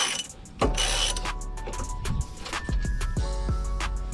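A 19mm impact socket working a tight brake bolt loose on a car during a brake change, giving a series of close metallic ratcheting clicks and clanks with a low rumbling bed underneath.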